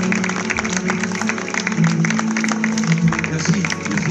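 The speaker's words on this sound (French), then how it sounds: "On les applaudit bien fort" Applause for two sailors in a Solitaire du Figaro race gathering in Rouen: a steady crowd clapping for about four seconds at an even level, with some voices mixed in.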